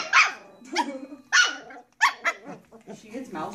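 A dog barks repeatedly indoors, sharp close barks in an irregular burst with some growly yips.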